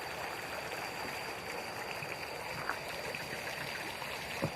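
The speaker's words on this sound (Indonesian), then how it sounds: "ini airnya sampai mancret-mancret sahabat. Air langsung dari gunung sepertinya ya." Mountain water spurts and flows in a hillside village near rice fields, a steady faint trickling stream with a soft continuous rush and no voices.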